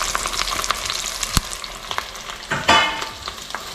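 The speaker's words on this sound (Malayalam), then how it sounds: "ഇനി ഇതിലേക്ക് 2 സവാള നീളത്തിൽ കനം കുറച്ച് അരിഞ്ഞത് ഇട്ട് കൊടുക്കാം." Thinly sliced onions hit hot oil with curry leaves in a pan for a tapioca beef curry, giving a steady close sizzle and crackle with a few stirring scrapes and a louder burst near the end.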